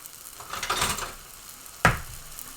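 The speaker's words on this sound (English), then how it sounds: "Basically stir frying this up" Pad thai rice noodles and egg being stir-fried and tossed with tongs in a hot pan, a soft sizzle with rustling stirs, then one sharp metallic clack of the tongs against the pan.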